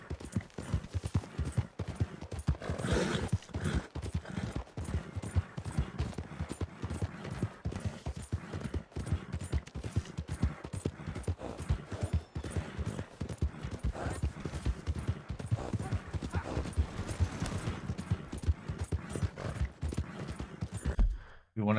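Steady hoof clip-clop of a horse in Red Dead Redemption 2, rhythmic and continuous near the listener for the whole stretch, with game ambience and occasional other noises mixed in.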